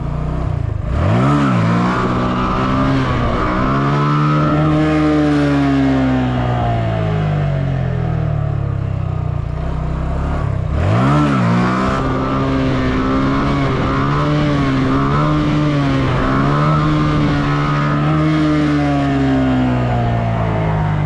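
A vehicle engine revs loud and close under an uneven, choppy throttle, its pitch repeatedly climbing and falling in long sweeping pulls across the whole stretch.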